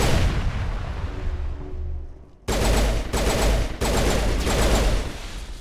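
Rapid pistol gunfire in the video game Mass Effect, loud dense bursts of shots in quick succession after a short quieter stretch, with brief gaps between volleys.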